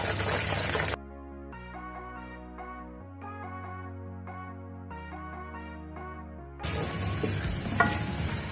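Onion and garlic frying in hot mustard oil for Lahori chana, with a loud sizzle at the start and again near the end, framed by a quieter stretch of steady, tonal background sound.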